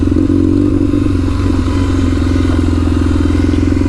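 Kawasaki KZ750 scrambler motorcycle ridden off-road, a loud steady engine drone with rumbling low pulses and a throaty mid-pitched whine, close and continuous without speech.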